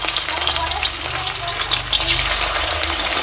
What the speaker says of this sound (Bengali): এবার আস্তে আস্তে মাছগুলোকে আমি এখানে গরম তেলে দিয়ে দেবো, মানে মাছগুলোকে ভেজে নেব